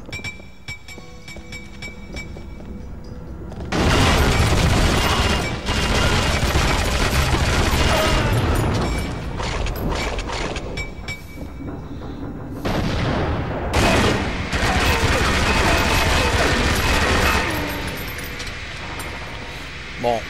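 Grenade blasts and gunfire from a 007 spy shooter video game, loud bursts of shots and booms packed densely over most of the stretch, with someone talking over the action.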